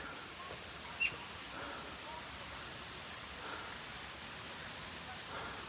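Water flowing near the Pisac ruins in Peru, a faint, steady, distant hiss that holds evenly throughout, with one brief soft knock early on.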